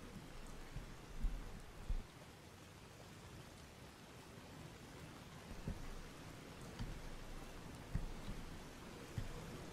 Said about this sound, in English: Ugh, it's all raining.